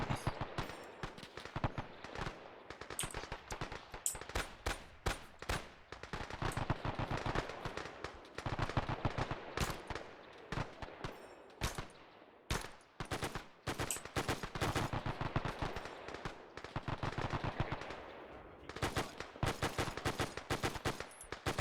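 Enemy machine gun fire in a World War II Guadalcanal battle game, with long, dense bursts of rapid shots that keep going almost without a break and only a few short pauses.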